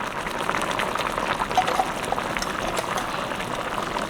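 A fenugreek curry (venthaya kulambu) boils in a pot with a continuous close bubbling and soft liquid popping, steady throughout with no voices.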